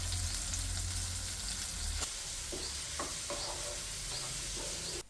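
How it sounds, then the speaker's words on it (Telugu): Brinjal pieces added to a pan of spices and mint for Karnataka-style vangi bath, frying with a steady close sizzle and hiss while a spoon stirs and scrapes in short clicks. "అన్నీ వేగిన తర్వాత వంకాయ ముక్కలు వేయాలి"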